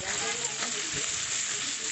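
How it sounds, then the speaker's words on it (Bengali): Chopped onions sizzle steadily in hot butter and oil with whole spices, a continuous close frying hiss with faint stirring, all while the egg butter masala base is being cooked. "একটু লাল করে পেঁয়াজটাকে ভেজে নিচ্ছি"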